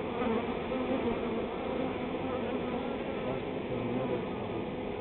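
A honey bee swarm entering a new hive fills the clip with a dense, steady, close buzzing drone that never lets up.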